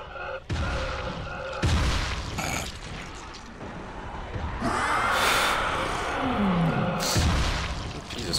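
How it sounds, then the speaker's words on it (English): Video game explosions boom in several loud bursts, with rumbling blasts and chaotic effects layered over one another in a sustained noisy stretch. "That's a lot of explosions."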